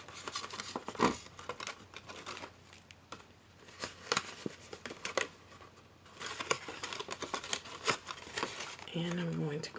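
Paper packaging being peeled and handled in a crafting session, giving close, irregular crinkling and rustling bursts with soft tearing-like scrapes, and a voice briefly speaking near the end.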